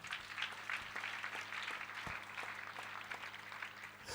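Church congregation applauding, a dense continuous wash of clapping hands filling the room at steady volume throughout.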